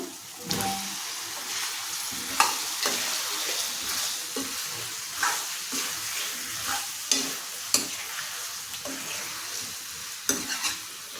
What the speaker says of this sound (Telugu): దీనిలోనే మనం కట్ చేసి పెట్టుకున్న ఈ దుంపలు కూడా వేసేస్తున్నాను.